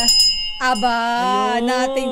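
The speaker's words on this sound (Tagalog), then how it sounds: "nabatingting ko din ang mahiwagang Bell Pilipinas" A bell rings on a Filipino morning radio show, bright and clear at the start, then a sustained, melodic voice-like tone carries on for the rest of the moment.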